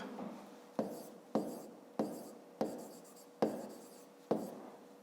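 A pen writes out a fifth-grade math solution on paper, about seven sharp strokes in a steady rhythm, each starting with a tap and trailing off into a scratchy rub, close and quiet.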